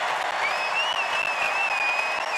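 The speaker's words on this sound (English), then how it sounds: "Boom! There it is. Crowd's going nuts." A sold-out basketball crowd at Gonzaga's Kennel roars and cheers after a three-pointer in an NCAA women's tournament game, a loud sustained wall of applause with whistles riding on top.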